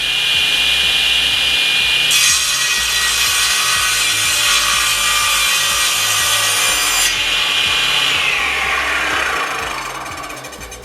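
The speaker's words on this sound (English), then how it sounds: "to do an angled cut, we can just set the slide to that position, bring our wood in and do the cut" A SIP CTS10D 10-inch floor-standing circular saw slices an angled mitre cut through wood, its steady motor whine jumping into a loud, bright cutting roar for several seconds before easing back and spinning down, with no talk.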